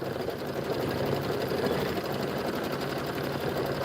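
An embroidery sewing machine runs steadily as it stitches the border of a bunny-themed bench pillow, a close, even, rapid mechanical whir and needle patter that goes on without a break.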